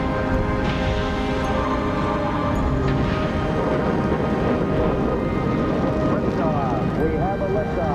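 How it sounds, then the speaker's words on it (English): A Saturn V rocket roars at the Apollo 11 liftoff, a dense, continuous rumbling thunder that holds steady throughout, with a voice speaking over it. "We have a liftoff, 32 minutes past the hour. Liftoff on Apollo 11."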